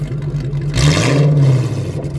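A straight-piped V8 hot rod engine revs briefly and loudly up from idle and falls back, a single deep, raspy blip heard up close.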